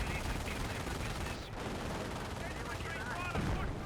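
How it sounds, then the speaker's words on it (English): Sniper and scoped rifle fire in the World War II strategy game Company of Heroes, with dense crackling gunshots and bursts layered over constant battle noise, loud and continuous throughout. "annoying sniper spam"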